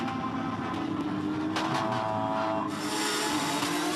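A Porsche Cup race car spins its wheels on a wet track, its engine a loud continuous roar whose pitch shifts up sharply partway through, with tyre and spray noise mixed in.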